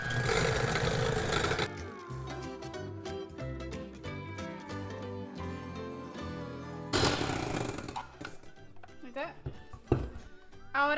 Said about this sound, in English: we're going to go ahead and whisk this all up until we get that stiff texture